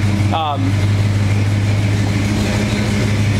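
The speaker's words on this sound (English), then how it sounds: "exhaust leak maybe right over here on this side" A 1969 Pontiac GTO convertible idles with an exhaust leak, a steady low rumbling drone held close and loud, with a brief voice at the start.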